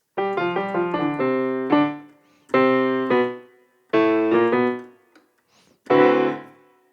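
Solo piano plays the close of the song "Shout Joyfully": a run of quick notes, then several loud sustained chords with pauses, ending in one quick, abrupt final hit, close and clear.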